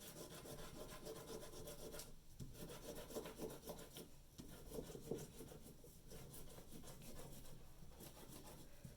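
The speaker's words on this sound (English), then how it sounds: "I could even do a second crayon rubbing of the same snowflake" Crayon rubbed back and forth over paper laid on a paper snowflake, a soft close raspy scratching in steady strokes with brief pauses, heard alone and quietly.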